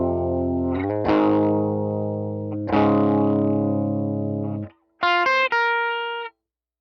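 An electric guitar with distortion and chorus effects plays a single-note run of long sustained notes with slides, ending in a few short bright stabs, loud and close with no voices.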